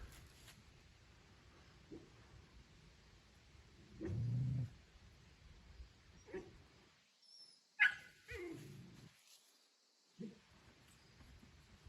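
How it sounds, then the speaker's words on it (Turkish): One dog gives a single short, low growl at a newly met female dog, faint and brief amid quiet surroundings with a few small yips. "O da bir hırlayıp bıraktı."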